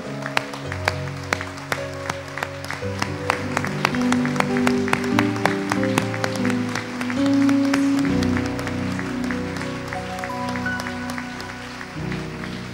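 A church congregation claps and cheers together in sustained applause, blending with music-like tones and voices that carry through the room.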